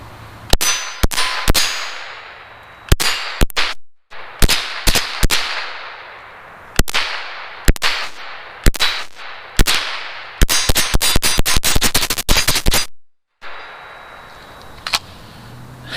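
A GSG 522 rifle fires outdoors in the cold: single sharp cracks, each ringing out with a metallic tail, then a fast rapid string of shots near the end, loud and close.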